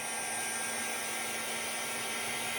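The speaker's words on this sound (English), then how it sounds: "it's like a little hair dryer and it does get hot" A steady whooshing blow of hot air from a small handheld heat tool, used on decoupaged napkin and book-page crafts, constant and fairly close, with a faint mains-like hum underneath and no voices.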